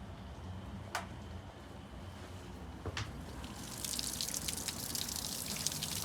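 Meltwater drips and runs off a house roof after freezing rain, a steady soft trickle with a couple of sharp drip taps early on and a brighter splashing flow building toward the end, fairly close.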